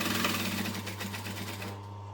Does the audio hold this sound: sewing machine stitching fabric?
yes